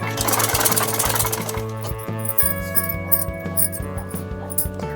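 A sewing machine stitches a salwar with a fast rhythmic mechanical chatter, loud and close, slowing briefly partway through before settling into a steady run of stitching with no talk.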